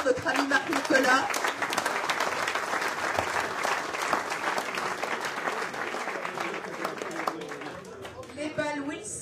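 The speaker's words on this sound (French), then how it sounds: "On peut l'applaudir très fort, notre ami Marc-Nicolas." An audience at a Roland Garros tee-break event in 2014 claps in sustained, loud applause that fades slightly toward the end, with crowd chatter and voices mixed in.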